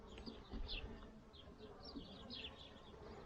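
Honeybees buzz steadily in a low, continuous drone around a hive, with faint high chirps flickering above it throughout.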